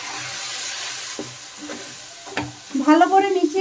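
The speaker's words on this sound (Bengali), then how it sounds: "সামান্য জল দিয়ে শুকনো মশলাগুলো এখন আমি মিশিয়ে নেব।" Cumin powder, coriander powder and biryani masala are stirred with a splash of water in a hot pan for aloo matar pulao: soft sizzling and scraping strokes, quiet and close, then a voice speaks at the end.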